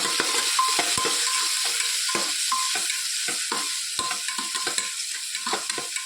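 Vegetables with green chilies, tomato, green garlic and chili masala frying in a pan, a steady loud sizzle broken by repeated scraping stirs, with no talk.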